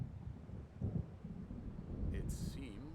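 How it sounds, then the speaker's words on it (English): Low rumbling thunder of an approaching storm rolls beneath a voice in the video game Alan Wake Remastered, with wind and rain-like noise, fairly faint and continuous. "It seems there's a storm coming."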